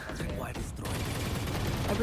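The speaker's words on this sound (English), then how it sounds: "Going for the wall bang, but dies actually to it with Vikingsley." Gunfire from a wall bang shot in a Valorant esports match, a short burst of rapid shots heard briefly among game effects.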